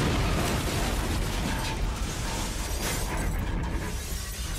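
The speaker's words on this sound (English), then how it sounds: "The explosion hit the wall of the tower with a massive force, destroying everything around it." A bomb blast in the World Trade Center parking garage heard as a dense, unbroken roar of rumbling and rushing noise, loud throughout with no clear pauses.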